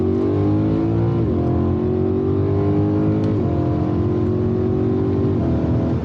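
BMW E92 M3 with its V8 engine accelerating hard, the revs climbing and then dropping sharply at quick gear changes, a loud continuous engine roar from inside the car with no talking.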